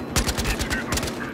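A quick flurry of overlapping gunshots in the shooter game Battlefield Hardline, loud and close, with a voice faintly in the background.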